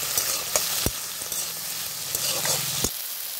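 Three small tomatoes are roasted with potato masala in a pan for dhaba-style dum aloo, producing a close, continuous sizzle punctuated by several sharp spoon clicks against the pan.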